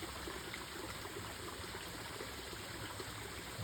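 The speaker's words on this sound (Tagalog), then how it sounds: "Nagawa sila ng sarili nilang kawa para bagsakan ng tubig dyan." Water falls into a homemade basin at a summer camp, producing a steady, close, broadband splashing rush with no pauses.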